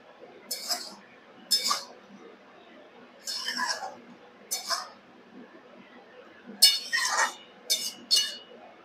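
Spice mix being stirred into shukto in a pan, with a series of light, spaced metal clinks and scrapes from a spoon against the pan, close and fairly quiet.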